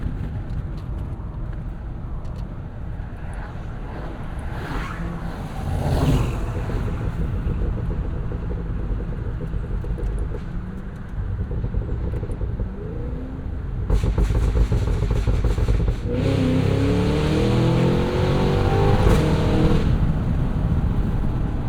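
A deep 682hp V8 engine of a 2026 Cadillac Escalade V rumbles steadily, then swells louder and revs higher in the second half, its roar echoing broadly off trees outdoors.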